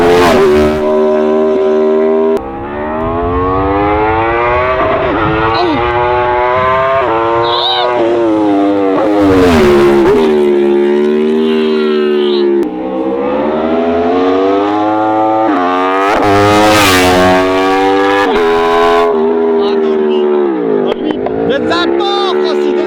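A loud motorcycle engine revs and roars continuously, its pitch climbing and dropping through repeated throttle bursts, close to the microphone.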